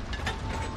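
Tank gun reloading in Hell Let Loose, heard as a short burst of close mechanical clanks and ratcheting clicks with a low rumble beneath.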